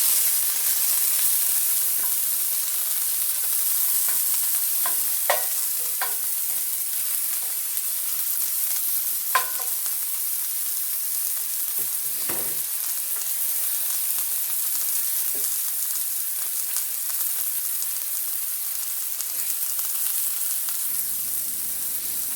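Chile peppers charring in hot oil in a pan, a bright steady sizzle with hiss close at hand and a few sharp pops and spatters scattered through.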